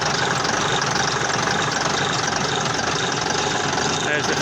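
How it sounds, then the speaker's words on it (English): A steady, rumbling diesel engine of an AEC Matador truck idles close by, a constant low drone with a faint mechanical knock running through it. "Just let you listen to the engine."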